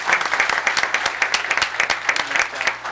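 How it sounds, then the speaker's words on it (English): Hands clap throughout a town board meeting audience for a recognition, giving a brisk, continuous round of applause heard up close with no speech over it. "Round of applause, everyone."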